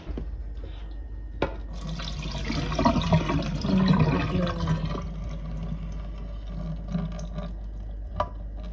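Water pours out in a home kitchen, a splashing, running stream that swells in the middle and fades, with a few sharp clinks and knocks of a container.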